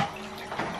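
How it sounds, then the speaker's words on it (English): Water sloshes and rushes as a child is dunked during a baptism, a brief, close, fairly loud splash of moving water. "I go under the water now"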